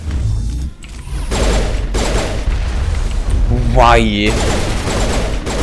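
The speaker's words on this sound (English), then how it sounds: "Why did you shoot me with a rocket of all things?" A rocket fired at the player in Mass Effect bursts loudly with booming impacts and crackling gunfire-like noise, mixed under a game character's voice and a speaker's brief exclamation.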